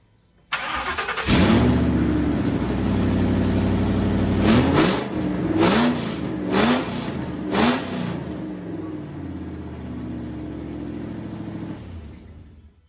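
A swapped Crown Victoria with full stainless dual exhaust, an X-pipe, no mufflers and exhaust leaks cranks and fires up, then barks through several sharp revs before settling into a loud, rumbling idle close by.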